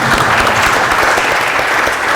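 An audience applauds for the hospital director at a talk event, a dense and steady burst of clapping that stays loud for its whole short length.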